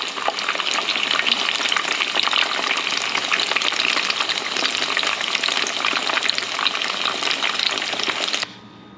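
Tofu fries in a pan with a lot of oil, a loud, steady crackling sizzle with constant popping that suddenly drops away near the end.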